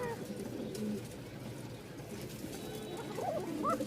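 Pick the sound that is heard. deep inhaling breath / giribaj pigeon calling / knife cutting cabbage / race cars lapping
giribaj pigeon calling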